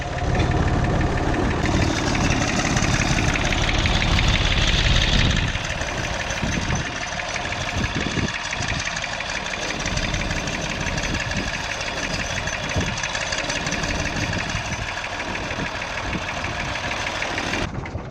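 A tractor engine idles close by, loud and steady with a knocking throb throughout, heavier at first and then a little lighter, with no talk over it.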